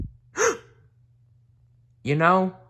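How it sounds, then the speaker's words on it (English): A man's sharp gasp read aloud in a storybook narration, a short breathy intake followed two seconds later by a longer voiced gasp, clear and close against a quiet background. "He gasped."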